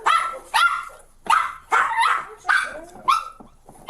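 A small dog barks in police bodycam footage, a quick series of sharp yappy barks and yips at a regular pace, close and loud.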